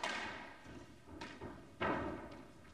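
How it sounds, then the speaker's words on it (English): Squash ball struck in a 1995 Men's British Open match, a drop shot sent low onto the front wall. Several dull, short thuds with a roomy court echo stand out, the last one loudest, and no voices are heard. "Tough drop shot going in."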